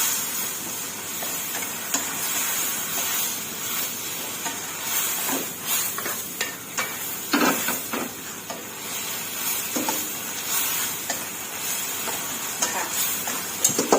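Holy basil, mushrooms and fresh shrimp stir-fried over high heat, a steady loud sizzle and hiss running throughout with scraping stir strokes and clatters scattered across it, no talking.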